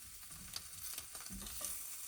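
Hamburger patties sizzle and crackle steadily on a hot surface at an off-grid Alaska cabin, a continuous close frying hiss with a few small scrapes and pops as they are flipped.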